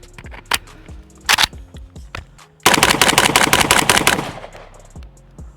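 An AK rifle fires Polish GROM ammunition outdoors: a few sharp single shots spaced out, then a rapid, loud string of cracking shots lasting over a second, with echoes trailing off.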